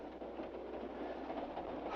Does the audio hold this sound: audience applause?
no